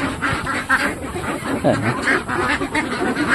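Domestic ducks kept as laying hens quack and chatter in a steady, overlapping flock nearby, with one louder call standing out. A person briefly speaks under the noise.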